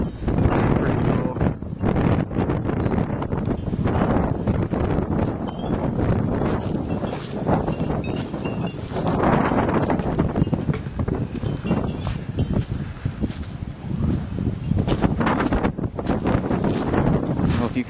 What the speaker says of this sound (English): You can hear the wind, it's whipping.